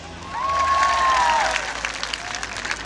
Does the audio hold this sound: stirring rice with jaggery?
no